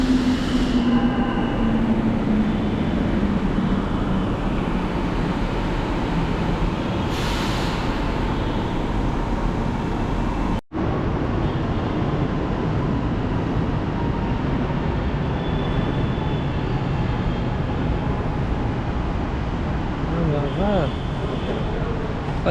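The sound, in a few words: Chennai metro train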